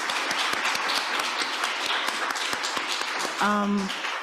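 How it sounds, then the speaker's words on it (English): A conference keynote audience applauds with steady, dense clapping throughout, and a voice briefly speaks toward the end. "Can we have a round of applause, please, for our guests?"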